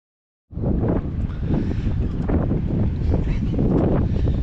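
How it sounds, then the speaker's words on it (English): Strong wind roars against the microphone after a brief silence, a constant heavy buffeting rush with no voices. "Pretty windy"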